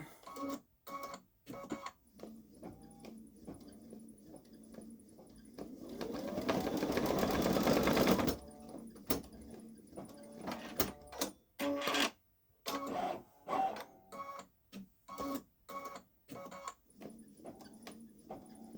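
A Babylock Solaris Vision embroidery machine satin-stitching around the edge of a patch, heard as a steady mechanical whir of about three seconds, set between scattered clicks and stops.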